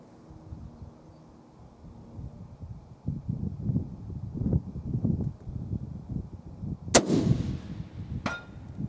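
Rifle shot fired while testing a Tract Toric Ultra HD 4-20x50mm FFP scope's turret tracking outdoors: one sharp, loud crack with a trailing boom, then a second fainter report, over wind rumble.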